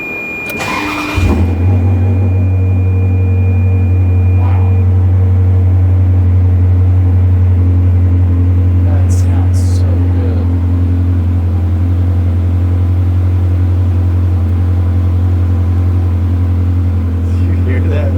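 A Lamborghini engine settles into a loud, steady idle right after a sharp start, holding a deep continuous drone with a few brief blips, while a person talks over it.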